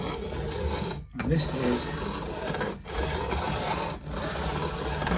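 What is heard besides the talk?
filing to end bevel fret ends on Strat-style guitar neck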